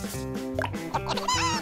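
Cartoon hens cluck in a quick, lively run of short clucks and squawks over a busy musical background.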